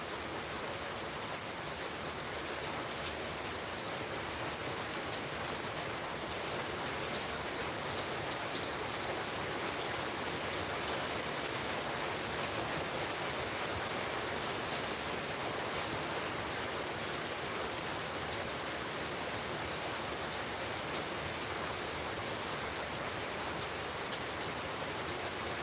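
Steady rain falls without pause, making a dense, even hiss that stays constant throughout, with no voices.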